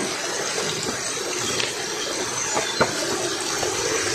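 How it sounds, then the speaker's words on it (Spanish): A small waterfall in Oñati gives a constant, fairly loud splashing rush, with a few faint knocks and splashes standing out briefly. "Hay una pequeña cascadita"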